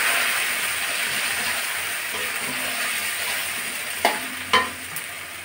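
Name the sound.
potatoes frying with spice paste in a pan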